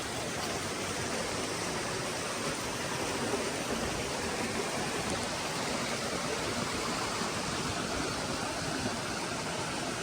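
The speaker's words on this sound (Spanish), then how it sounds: "Una bonita cascada." A mountain waterfall in California pours in a steady, dense rush of falling water, a close, unbroken hiss that stays level for the whole stretch with no voices.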